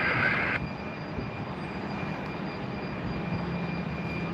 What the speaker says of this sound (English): Southwest rolling up for takeoff now